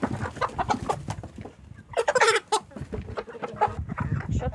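Turkeys clucking and gobbling close by near a farm coop, a busy run of bird calls with a louder burst of squawking in the middle, no talking.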